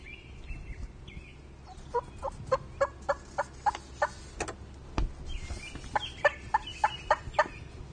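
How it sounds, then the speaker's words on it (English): Wild turkey Tom gobbling and clucking during a spring hunt, a series of sharp, evenly spaced clucks in two bursts over steady outdoor background, fairly near and moderately loud. "And by now Brandt decides to make some more aggressive clucks."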